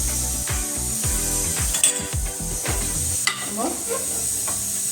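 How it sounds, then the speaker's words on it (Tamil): Mutton curry frying in a pan is stirred with a utensil, giving steady close-up sizzling broken by repeated scraping and clattering strokes against the metal, with a few sharper knocks. "நல்லா கிளறி விட வேண்டியதான்."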